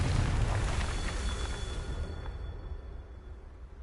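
A Confringo fire spell explodes in Hogwarts Legacy, a loud booming blast with heavy low rumble that rolls and decays over several seconds, thin tonal ringing lingering above.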